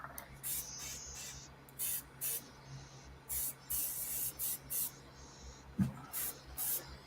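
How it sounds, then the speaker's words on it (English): An airbrush sprays paint in repeated short bursts of hiss, each lasting about half a second, close and steady with brief pauses between. "I just want to get this color out of my airbrush."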